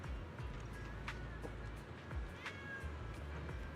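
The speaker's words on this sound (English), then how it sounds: "We have 2 cats walking by each other." Cats meow in a video game, several short, faint cries scattered over a steady bed of low background noise.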